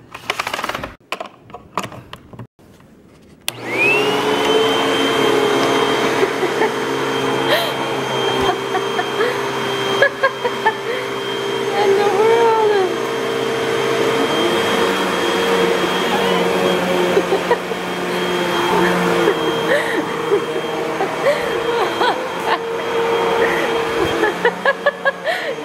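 A household vacuum cleaner starts up after a few seconds of quiet and runs steadily and fairly loud, with a constant motor whine and occasional knocks and rattles along the way.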